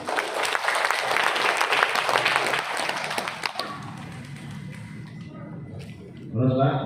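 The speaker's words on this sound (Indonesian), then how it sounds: "Tepuk tangan untuk BTP." Seminar audience applauds a presenter, a loud burst of many hands that fades over several seconds, followed by a voice starting to speak at the end.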